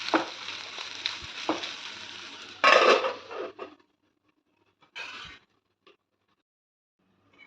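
Ivy gourd (dondakaya) fries in a pan with a steady oily sizzle, broken by a few clinking scrapes of a spatula stirring against the metal, then the sizzle drops away into near silence with brief stirring bursts.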